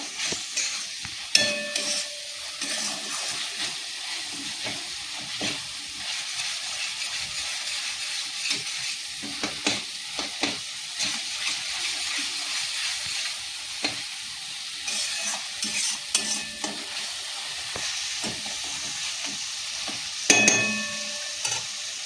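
Spice masala fries in oil while being stirred for a cauliflower, potato and soybean curry, giving a soft steady hiss broken by scattered scrapes and clinks of a ladle against the pan, close but fairly quiet, no talking.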